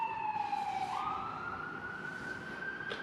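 Ambulance siren wailing outdoors at moderate distance, a steady tone that sweeps upward and holds as the vehicle passes, over low traffic rumble and without talking.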